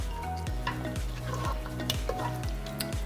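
Khmer chicken red curry sizzles and spatters in a pot while a spoon stirs it in a steady rhythm, scraping about twice a second. Frying is loud and close throughout.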